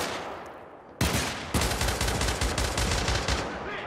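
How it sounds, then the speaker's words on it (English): Sniper and automatic gunfire crack loudly in the Syndicate video game, a dense, sustained volley of rapid shots that starts suddenly and keeps going without pause. "Right on cue, snipers here."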